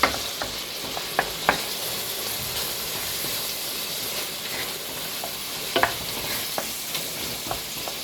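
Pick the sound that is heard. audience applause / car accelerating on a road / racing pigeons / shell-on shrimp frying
shell-on shrimp frying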